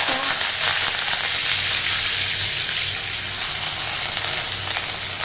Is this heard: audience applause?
no